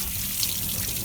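Steady running water from a tap while hands are washed during cookie baking, a continuous close rush of water with no voices.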